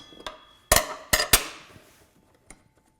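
On a table saw, a wrench loosens the arbor nut with a few sharp metallic clanks and knocks, three loud strikes close together, then a fainter click after a pause.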